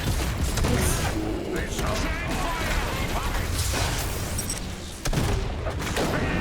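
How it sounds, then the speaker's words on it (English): Gunfire in the video game Iron Harvest, a steady loud battle din of rapid shots, booms and mechanical clanking, with people's voices talking over the barrage. "We need to shoot more. More. I know. We're shooting all we can."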